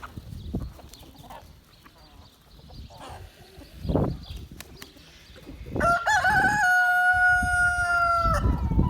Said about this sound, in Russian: Ну-ка, петушок, поздороваемся.